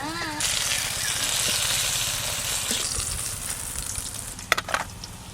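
Small river puti fish fry in hot oil, giving a dense, continuous sizzle close up, with a steady low hum underneath and a few sharp clatters near the end.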